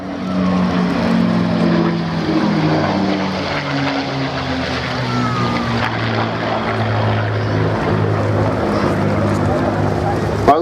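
A P-51 Mustang propeller engine in the FlightGear simulator at an airshow drones steadily, loud and close, with a rough, continuous roar that shifts slightly in pitch throughout.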